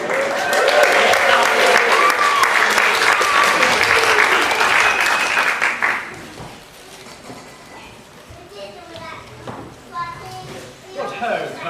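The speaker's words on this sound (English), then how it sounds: "give her a huge round of applause" Applause from an audience at a school playground show rings out loud and dense for about six seconds, then fades to scattered claps and children's voices chattering nearby.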